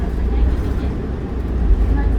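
A 2014 New Flyer XD40 city bus of Calgary Transit cruising slowly, its engine a quiet low rumble with steady road noise heard from inside the cabin.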